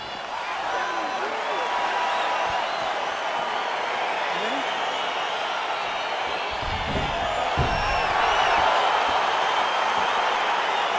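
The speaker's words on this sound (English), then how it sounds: "crowd getting excited as this fight gets underway" A UFC 4 video game arena crowd roars and cheers as a fight gets underway, a dense, steady wash of crowd noise that runs under continuous commentary.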